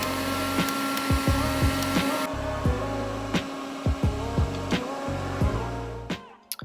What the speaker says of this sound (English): I'm using my Red by Kiss dryer. It's a hooded dryer that I got from Walmart.